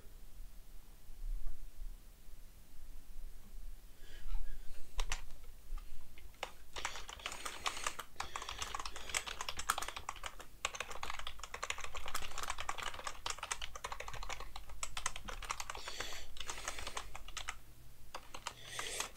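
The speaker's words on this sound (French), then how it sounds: "je fais du bon bruit avec mon clavier, parfait." Typing on a computer keyboard, near and fairly quiet, beginning after a few seconds of near silence and continuing as a dense, uneven run of rapid key clicks with brief pauses.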